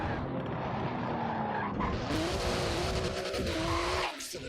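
A 700-horsepower rear-wheel-drive street-legal car in Forza Horizon 4 drifts with loud, sustained tire squeal over a roaring engine, the pitch sliding up before the screech drops away near the end.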